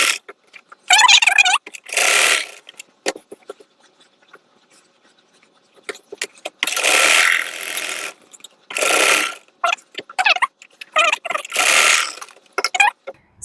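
Domestic sewing machine stitching darts on a deep-neck blouse, running in several short whirring bursts separated by pauses, close and fairly loud, with no talking.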